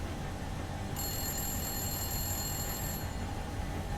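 A telephone rings in The Long Dark video game, a bright electronic trill that starts about a second in and runs for two seconds over a low, steady background rumble.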